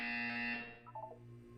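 A buzzer in the Portal 2 video game sounds a loud, steady electronic tone that cuts off after about half a second, leaving a low hum with a few faint blips.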